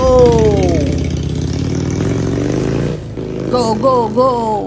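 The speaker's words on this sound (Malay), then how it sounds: "Jangan risau, motor running yo. On the bike." A Kawasaki VN800 motorcycle engine idles and revs close by, its pitch rising and dipping, with a voice speaking over it.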